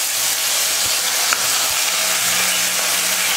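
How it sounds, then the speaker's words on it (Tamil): Mustard seeds, urad dal and curry leaves hit hot oil in a pan, a loud steady sizzling hiss with a few sharp pops near the start and middle, no voices. "கூட்டுக்கு தேவையான எண்ணெய் காஞ்சதுமே கடுகு உளுந்து, கடுகு பொரிஞ்சதும் கருவேப்பிலை"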